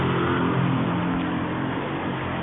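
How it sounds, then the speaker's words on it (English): A bus rumbles past a bus stop, its engine steady, low and mid-loud throughout with no clear approach or fade, and no talk over it. "that's the bus"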